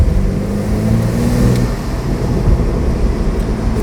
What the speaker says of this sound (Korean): 스포츠 배기 먼저 보여드릴게요. 스포츠 배기만 켜놓은 상태입니다.